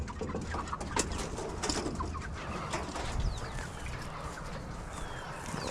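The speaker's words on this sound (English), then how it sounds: "let's see if we can get that rooster to make some noise for some food." Chickens and a rooster in a coop in the morning, with soft clucks and coos scattered over a steady outdoor background, none of the calls loud or sharply defined.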